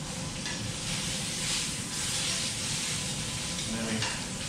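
Kurobuta pork sizzles steadily in a pan just after being flipped, a constant broad hiss of frying fat at moderate volume.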